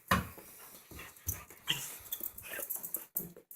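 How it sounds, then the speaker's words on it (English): A dog whimpers and pants in a home studio, with short irregular whines and breathy pants up close, alone with no talk. "Well, there's my dog, Oliver."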